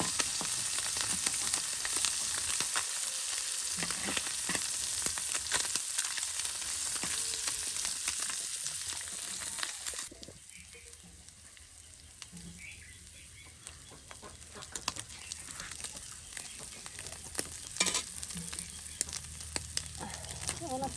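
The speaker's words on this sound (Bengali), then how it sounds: "খুব মনোযোগ দিয়ে এই পুঁটি মাছগুলো ভেজে নিচ্ছে যেন পুড়ে না যায়।" Small puti fish frying in oil over a low flame, a steady close sizzle through the first half that drops to a quieter, sparser crackle later, with faint clicks of handling and distant bird calls.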